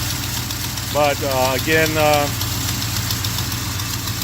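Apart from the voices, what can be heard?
Yamaha Blaster ATV engine idling with new MSD coil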